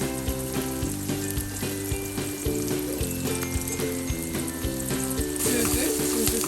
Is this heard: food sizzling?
yes